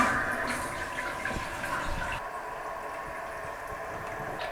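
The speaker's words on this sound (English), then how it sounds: "Now we can turn on the water and see if we have any leaks." A newly installed toilet tank refills with water after the supply valve is turned on, a steady close rush and hiss of running water that softens partway through, with no talking.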